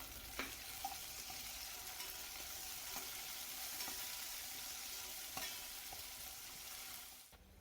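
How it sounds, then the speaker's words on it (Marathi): Onion, green chillies and finely chopped tomato sizzle softly in a pan for a spicy prawn pulao, a steady quiet frying hiss with occasional light taps of stirring. "आता इथे टोमॅटो देखील छान असा परतत आलेला आहे"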